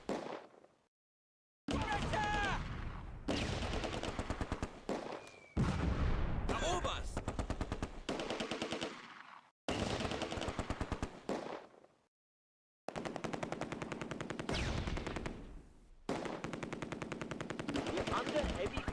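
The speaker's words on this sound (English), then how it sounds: "the Germans are attacking in the open under rifle, machine gun and mortar fire." Close Combat video game battle with rifle, machine gun and mortar fire: loud, dense bursts of automatic fire and crackling shots in several sustained stretches, broken by short silent gaps.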